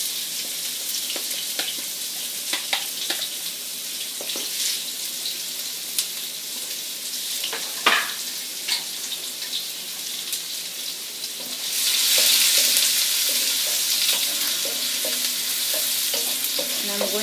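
Chopped onions and green chilies frying in a pan, giving a steady close sizzle with small scrapes and clicks. The hiss swells and grows brighter partway through, and no one speaks.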